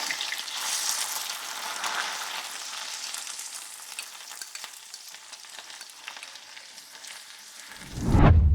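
Ginger sizzles and crackles steadily in hot coconut oil, a close, continuous hiss of frying with no talk, ending in a short low thump.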